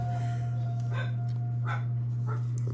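A dog gives several short barks or yips, spaced roughly evenly, moderately near, over a loud constant electrical hum.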